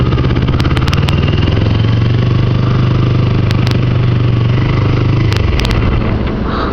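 A Kawasaki Ninja 250 motorcycle engine runs steadily at a loud, even pitch throughout, with a few sharp clicks on top before the tone drops slightly near the end.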